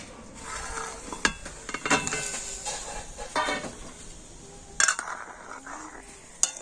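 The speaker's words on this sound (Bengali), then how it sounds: "আর এখন আমি এই পিঠেগুলো দুধের মধ্যে দিয়ে দেবো" Rice cakes (pithe) go into thickened boiled milk in a pot, with sharp metallic clinks of a utensil against the vessel at irregular moments over a soft, steady simmering hiss.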